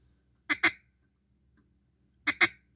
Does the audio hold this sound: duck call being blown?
yes